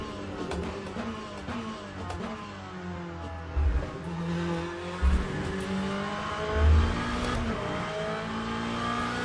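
A GT race car engine in the video game iRacing drones loudly and continuously, its pitch sweeping up and down through gear changes, with low thumps along the way.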